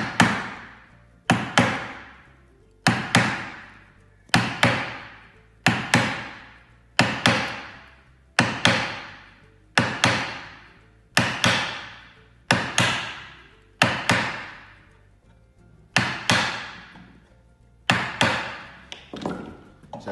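Steel chisel struck by a hammer cutting into timber, a steady run of about a dozen sharp, loud, ringing blows, each decaying quickly with a woody thud, with no talk.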